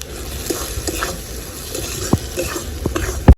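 Chopped tomatoes going into spice paste frying in a pan for a Bengali rui posto fish dish, a moderate sizzle with intermittent stirring scrapes and a couple of sharp clinks near the end.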